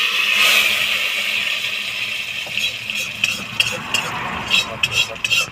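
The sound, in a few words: pouring spice tempering into khichuri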